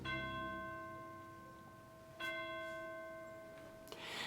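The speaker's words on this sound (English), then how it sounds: "a series of chimes that we hear, a bell, perhaps from a distant village or a church" Two distant church bell strikes, part of an orchestral piece, ring out a couple of seconds apart, each leaving a long, shimmering tone that slowly fades, quiet and alone.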